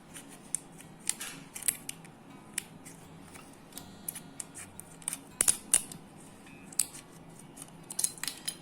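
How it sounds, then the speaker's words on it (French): Scissors snip through a Nespresso aluminium coffee capsule, a series of sharp small clicks and crunches in irregular rhythm, close and fairly quiet with no voices. "Il vous suffit de couper la capsule ici en son milieu."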